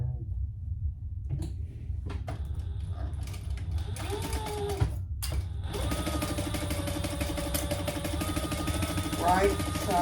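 A sewing machine stitching fabric seams for a divided basket, first quiet, then a steady mechanical whir with rattling starting midway and running to the end, close and continuous.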